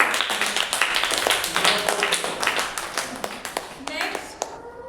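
Clapping from a small group in a classroom-like setting, uneven individual claps in a loose rhythm that thin out toward the end, with faint voices in the background.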